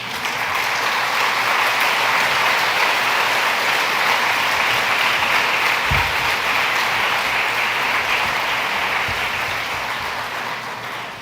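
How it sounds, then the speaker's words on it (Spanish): A large crowd claps steadily for several seconds, a dense, sustained wave of applause that tapers off at the end. "Denle un aplauso al Señor."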